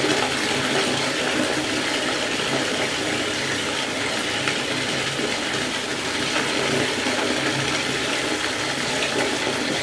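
Water gushes steadily from a tap into a bathtub being filled for a bubble bath, a loud continuous rushing splash that stays constant throughout with no voices.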